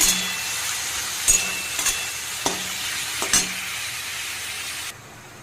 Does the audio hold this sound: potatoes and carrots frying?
yes